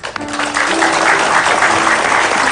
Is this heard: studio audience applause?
yes